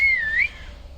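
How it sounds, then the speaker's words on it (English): A long, dramatic whistle from the character Franz, a single clear tone that bends down then rises before trailing off, loud and close with no talking over it. "Franz lets out a long, dramatic whistle."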